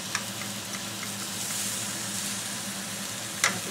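Pomelo pieces go into a hot pan for pickle and are stirred, giving a steady, close sizzle with a few light clicks of the spoon against the pan.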